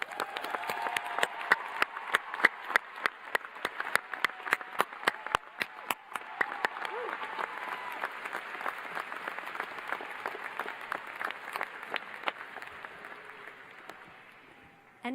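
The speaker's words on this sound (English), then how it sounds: "Can we please have a joyous and raucous round of applause for the families and friends of our" Graduation audience at the UW School of Social Work 2022 ceremony applauds families and friends, with crisp individual claps loud at first, then a thinning, fading round that dies out near the end.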